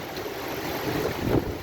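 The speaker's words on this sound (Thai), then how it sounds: "ทั้งลมทั้งฝนแรงมากเม็ดใหญ่ด้วย" Heavy midday rain with large drops and strong wind at Mueang Thong Thani, Pak Kret, Nonthaburi, forming a dense, constant roar with gusty swells and no voices.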